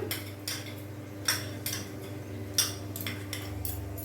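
A spoon scrapes and knocks against a pan, stirring mustard-poppy paste into masala, with sharp, evenly spaced clinks over a quiet background hum.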